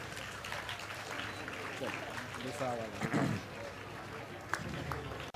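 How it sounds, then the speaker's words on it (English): Applause from the audience at a felicitation ceremony at an education expo sounds as steady crowd clapping, fairly dense, with a voice talking over it and brief cheers. "Yes, please clap for the team."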